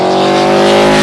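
A TVR sports car with its own in-house V8 engine roars loudly and close, a dense, continuous, steady-pitched engine note filling the whole moment with no talk.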